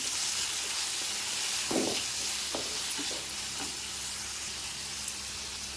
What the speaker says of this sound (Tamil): ரெண்டு தக்காளி கட் பண்ணி வச்சுருக்கேன் அதையும் இது கூட ஆட் பண்ணிக்கலாம் ஆட் பண்ணிவிட்டு அதையும் நல்லா வதக்கலாம்